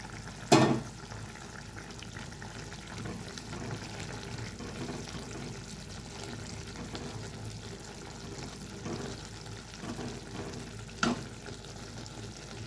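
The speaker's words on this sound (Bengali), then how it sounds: "ঝোলটা ফুটে উঠলে আমি মাছটা ছেড়ে দেব" Bengali-style amudi fish curry bubbling at a steady boil in the pan, a soft continuous simmer heard close up with a sharp clack near the start and another near the end, no talking.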